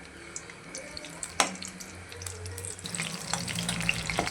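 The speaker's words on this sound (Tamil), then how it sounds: "4 பச்சை மிளகாய் கீறி போடுறேங்க." Slit green chillies dropped into hot peanut oil, giving a spitting, crackling sizzle that grows busier and louder toward the end, with a sharp splash-like burst near the start of the frying.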